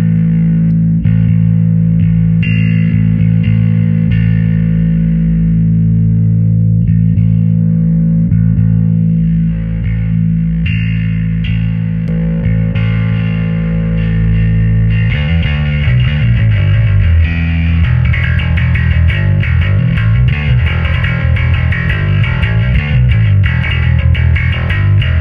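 A bass guitar played through compression and distortion into an Ampeg Venture V7 amp and VB-210 cabinet, steady low notes that turn gritty and buzzing with denser, more aggressive playing in the second half.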